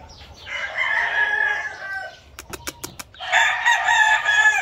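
A Miner Blue gamecock rooster crows loudly twice, long and hoarse, with a quick series of sharp clicks in the gap between the crows.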